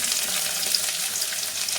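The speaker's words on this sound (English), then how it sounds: "fry well for 10 minutes in the medium flame only." Small pieces of lady's finger (okra) frying in a little oil in a pan over a medium flame, giving a steady, close, continuous sizzle with faint crackles throughout and no voices.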